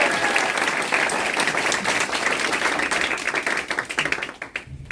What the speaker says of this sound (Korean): 네, 큰 박수 부탁드리겠습니다.